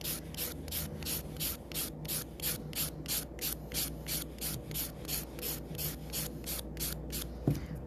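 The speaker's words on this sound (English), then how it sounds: "I think I need a little bit more filing" A nail file scrapes across 3D type nails in quick, even back-and-forth strokes, about three per second, close and quiet with no talking.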